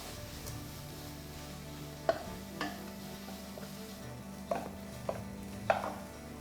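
Chopped green chillies and salt being stirred into semiya upma in a pan: a few distinct spoon scrapes and knocks against the pan over a soft background sizzle, with no talking.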